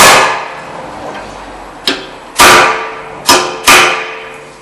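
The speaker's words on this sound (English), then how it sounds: "Put your drift on here, take it and hit it firmly." A hammer strikes a drift set on a 2005 Honda Civic front brake rotor screw: four loud, sharp metallic blows with ringing decay, irregularly spaced and very close, with no talking.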